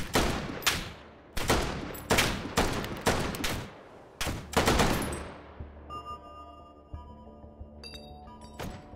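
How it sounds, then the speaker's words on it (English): Gunfire from the VR shooting game H3VR: a rapid string of loud, sharp shots in uneven bursts, then trailing off into a few scattered single shots with faint metallic clinks and tones. "Real nice shooting there"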